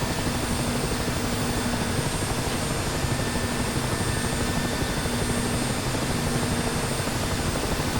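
A video game Mi-8 helicopter runs its rotor and engines, a dense, loud, continuous roar with a steady drone and no voices.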